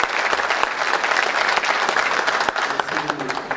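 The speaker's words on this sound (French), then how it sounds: "Je veux qu'on applaudisse plus particulièrement Sir Majid Ben Amara" An audience at the CoTuMe 2014 closing ceremony breaks into dense, sustained applause, many hands clapping together at an even level throughout, with a faint voice now and then underneath.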